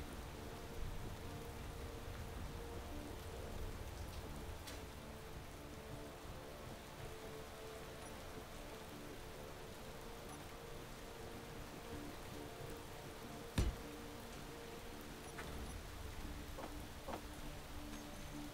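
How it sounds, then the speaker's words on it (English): Steady rain in Space Engineers hisses continuously at a low level, with a sharp knock near the end; no voices. "And it's raining."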